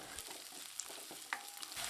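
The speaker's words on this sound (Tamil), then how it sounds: "இப்போ வெங்காயம் நல்லா வதங்கிடுச்சுங்க" Chopped onion fries in hot oil in a pan for a Tamil coriander-leaf egg rice, a soft, quiet sizzle broken by light scrapes and clicks of stirring, with no talking.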